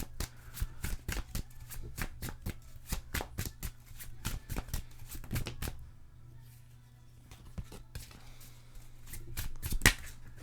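Tarot cards being shuffled by hand, a run of quick crisp riffling flicks and slaps up close, pausing briefly midway and then resuming with a few sharper snaps.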